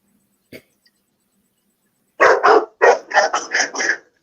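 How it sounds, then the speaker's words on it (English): A dog barks loudly and close in a rapid series of about seven sharp barks after a brief knock and a quiet pause. "Oh, shut up, dog."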